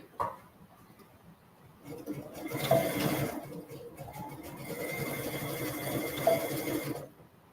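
A sewing machine runs a zigzag stitch on kids' boardshorts with elastic, two quiet bursts of rapid mechanical whirring separated by a short pause in a quiet room.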